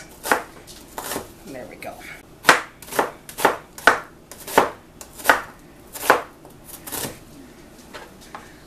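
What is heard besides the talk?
knife slicing onion halves on a cutting board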